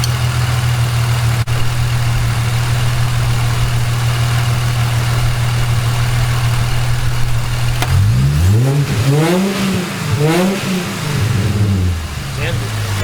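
Holden Commodore L67 supercharged V6 fitted with an adjustable fuel regulator idles steadily, then is revved repeatedly in rising and falling sweeps under load, loud and close, with a voice speaking over it.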